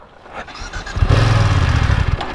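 A BMW F900XR parallel-twin motorcycle engine fires up and settles into a steady, close, throaty idle after a short starter whir, with no voices.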